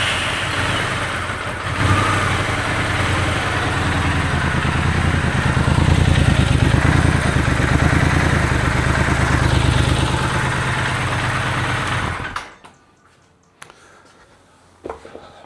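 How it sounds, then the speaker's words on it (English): Triumph Scrambler 1200 XE engine fitted with a slash cut silencer, running loud and close with a steady throbbing idle for about twelve seconds before cutting off, followed by near silence and a few faint knocks. "So let me start it up and we'll get a quick reading on that."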